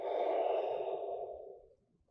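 A single long, breathy exhale during a tai chi stance, close and soft, trailing off into quiet after about a second and a half.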